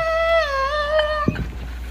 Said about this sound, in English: This dog can't figure out why this person isn't throwing the stick.